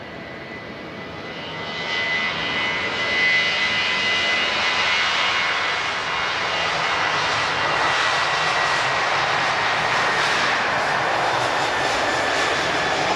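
Aircraft engines roar at Lisbon Airport, a loud, steady broadband rumble that swells after a couple of seconds and holds close and powerful, with no voices over it.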